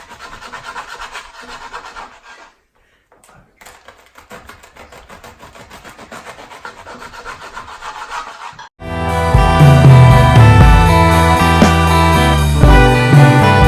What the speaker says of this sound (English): you're going to cut it about 1 inch, half an inch thick,